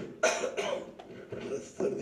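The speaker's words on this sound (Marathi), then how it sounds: "सर्दी खोकला झाला." A person coughs from a cold during a Marathi lecture, giving three sharp, close coughs spaced through a short stretch with quiet room tone between them.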